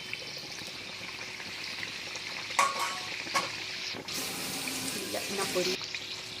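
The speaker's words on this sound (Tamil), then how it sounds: "ஒரு சமோசா பொரிஞ்சுட்டு இருக்கும்போதே இதை திருப்பி போட்டுக்கலாம்" Samosas deep-fry in hot oil with a steady, close sizzle and bubbling, broken by brief clatters and splashes as they are turned, continuing throughout.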